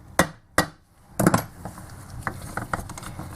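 A screwdriver tapped against a Phillips screw on a car alternator, two sharp knocks followed by a cluster of quicker taps, then lighter clicks and handling sounds, close up.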